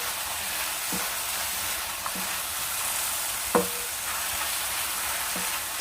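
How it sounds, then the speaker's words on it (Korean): Shiitake mushrooms stir-fried in a pan with sliced green onion and chili, giving a steady hiss with a few soft spatula scrapes spaced through it and one sharper clack near the end. "지금 물이 많이 보이지는 않고 잘 볶아지고 있어요"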